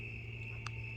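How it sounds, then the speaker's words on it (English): Crickets chirp in a forest at night, a steady high-pitched trill running throughout with one brief louder chirp near the end, faint and continuous. "listening to all those crickets and all the nightlife come alive"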